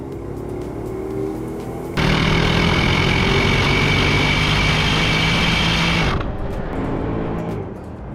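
A loud, steady engine of a Mercedes R63 AMG minivan roars for several seconds as it accelerates, its broadband rumble holding strong before easing back down.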